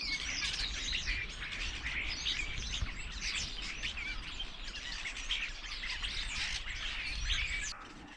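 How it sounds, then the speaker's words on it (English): Many small birds chirp and twitter steadily from behind a fence beside a quiet canal, a dense overlapping chorus of close tweets with a low outdoor rumble underneath and no voices. "the birds are having a great time behind this fence"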